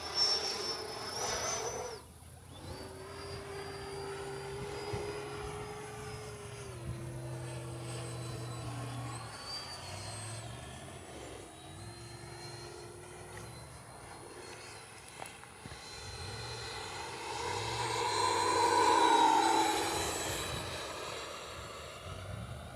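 A red Freewing Ares 3D 8S 90mm EDF RC jet in flight, its whining ducted fan rising and falling with the throttle and swelling loudest as it passes near the end, over faint outdoor insect chirps.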